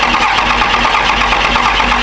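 A Cummins diesel engine cranks hard and steadily, its loud starter-driven churning chugging in an even rhythm without catching.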